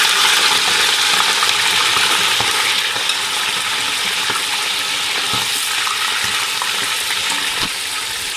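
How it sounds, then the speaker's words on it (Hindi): Chicken roosh frying in a pan gives a loud, dense, continuous sizzle and hiss heard up close, with faint clinks and stirring scrapes underneath. "तो इसलिए हमने इसको फ्राई करना है"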